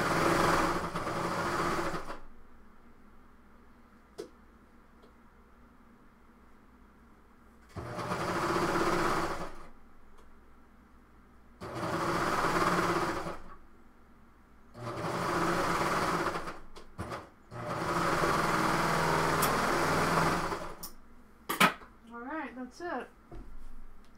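A sewing machine stitches fabric pattern pieces for toys in loud, sustained runs of a few seconds each, four or five bursts separated by quiet pauses, with a few small handling clicks near the end.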